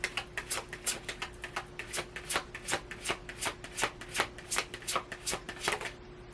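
Tarot cards are shuffled in quick, even riffles, a rapid series of soft papery flicks close up and at low volume, with a faint steady hum behind them.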